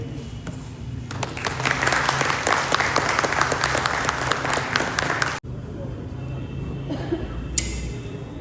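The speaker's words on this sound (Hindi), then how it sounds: "हम सब लोग खड़े होकर जोर से ताली" Guests at a Christian wedding applaud together in a sustained, dense round of clapping for about five seconds, which cuts off abruptly, leaving room murmur and a few scattered noises.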